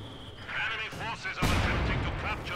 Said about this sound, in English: Oh, that was a hard mortar shell.